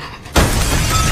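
A glass door pane is smashed in a film scene, one sudden loud shattering crash after a brief quiet, followed by sustained scattering, tinkling debris noise.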